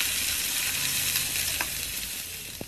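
Half a kilo of chopped cabbage sizzles steadily while it is stirred and fried in a pan at home. The hiss stays close and continuous, with a couple of faint utensil clinks near the end.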